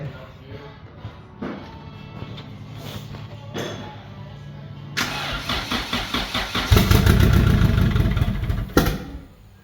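A long-parked junkyard vehicle's engine cranks over several times, then catches and revs up loudly and unevenly before easing off, close by, with brief talk in the background.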